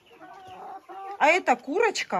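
A hen clucks in a run of short, bright calls, close and fairly loud, after a softer stretch of low chatter.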